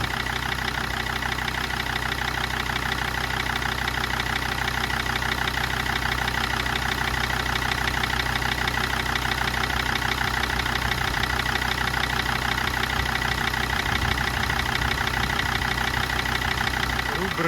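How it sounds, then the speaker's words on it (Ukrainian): A Jeep Grand Cherokee engine idles steadily just after a cold start, with a continuous even hum and mechanical clatter running unbroken throughout at a moderate, close level. "Автомобіль завів."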